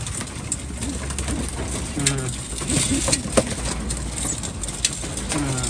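Hungry racing pigeons are fed at a loft, with repeated cooing close by, scattered flutters and small clinks of grain or feeders, and a steady background hum throughout.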